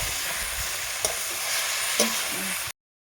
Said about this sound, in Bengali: এটা আমি ভালোভাবে এখন কষিয়ে নিই।